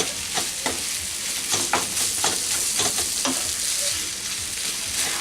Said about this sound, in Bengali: যে মান কচুটা আমি গ্রেট করে নিয়েছিলাম, সেই গ্রেট করা মান কচুটা দিয়ে দিচ্ছি। দিয়ে খুব ভালো করে এর সঙ্গে মিক্স করে নিতে হবে।